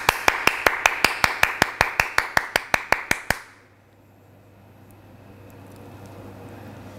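A teacher at a workshop claps sixteen or so crisp, evenly spaced claps close by, then stops abruptly and leaves near silence.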